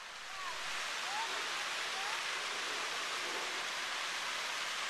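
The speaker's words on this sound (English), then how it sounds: "Those are fountains, buddy." Park water fountains splash in a steady broadband rush that starts softly and then holds level and fairly close, with no other clear sounds over it.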